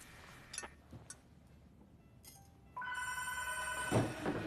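A telephone rings with a bright, sustained electronic trill in the second half, loud and close, after a few quieter knocks and rustles.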